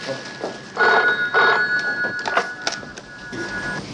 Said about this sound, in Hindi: फोन सुनो भाई।